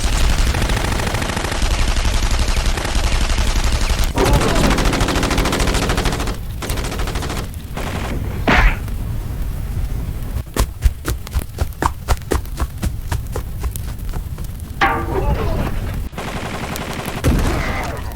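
Gunfire in a Captain America motion comic: loud bursts of automatic fire open the scene, followed by a rapid run of sharp single shots and further bursts, with no talk over it.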